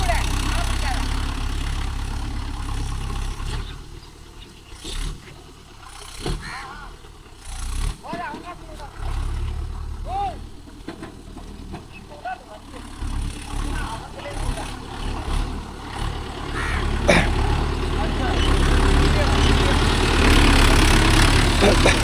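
A Mahindra Yuvo Tech Plus 585 4WD tractor engine runs steadily on a farm, a low rumbling drone that rises toward the end, with people talking over it.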